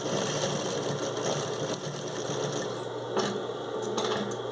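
A sewing machine runs steadily, stitching a narrow seam on a beginner's zippered pouch, with a continuous close, whirring mechanical rattle and a few faint clicks, no voices.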